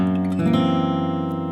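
The closing measure of a song is played on guitar as a short sustained chord passage, the chord shifting once and then ringing out clearly and alone.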